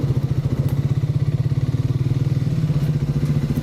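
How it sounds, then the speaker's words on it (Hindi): A Triumph motorcycle, likely the Speed 400, with a heavy-sounding exhaust that throbs in a steady, fast pulsing rumble throughout, close and loud, with no talk. "मुझे इसका एग्जॉस्ट साउंड काफ़ी पसंद है, थोड़ा सा हैवी है एज़ कम्पेयर टू गोरिल्ला"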